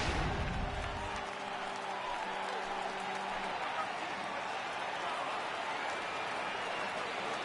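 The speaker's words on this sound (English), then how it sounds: "Crowd gets up for the 3-2." Stadium crowd noise in the MLB The Show 18 baseball video game, a broad steady roar rising for a full 3-2 count, with a brief low tone early on.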